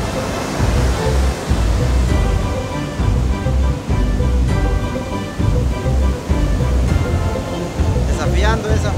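Heavy surf rumbles and crashes continuously, a steady roar of breaking ocean waves with wind, loud and close throughout, heard from a boat.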